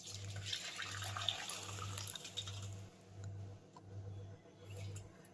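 Dusty water pours from one kitchen vessel into another, a faint continuous trickle and splash over a low rhythmic hum that pulses steadily in the background.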